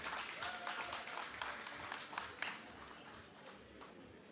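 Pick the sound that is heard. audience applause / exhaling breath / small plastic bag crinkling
audience applause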